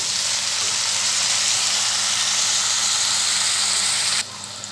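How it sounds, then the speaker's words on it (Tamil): Brinjal sautéing in an oil-filled pan, a loud, steady close sizzle and crackle that runs continuously before dropping abruptly near the end. "இப்போ இது நல்லா கொஞ்சம் நேரம் கத்திரிக்காயும் வதங்கி வரட்டும்"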